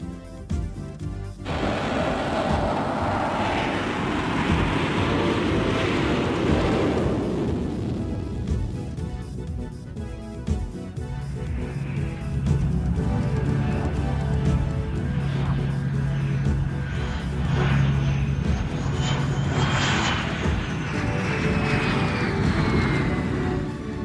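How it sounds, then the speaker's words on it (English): A McDonnell Douglas F-18 Hornet jet makes carrier-style landings on a land base, a loud continuous roar and rumble of engine noise filling the clip, with a rising whine toward the end. "Landings similar to those which would be required on a carrier are experienced."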